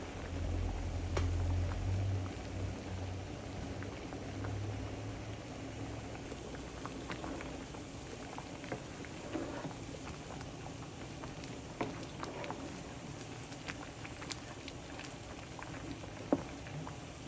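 A pot of khichuri cooked with winter vegetables bubbles on the stove, a soft ongoing simmer with scattered pops and small splutters, fairly quiet and close, with a low hum early on and no talking.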